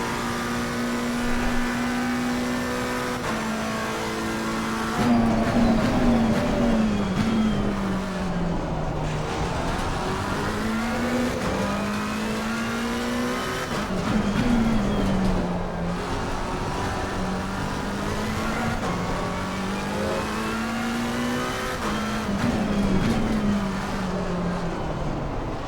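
A McLaren 720s GT race car lapping Circuit of the Americas in Assetto Corsa Competizione, its engine note rising and falling steadily through gear changes and corners, continuous and fairly close with no talk.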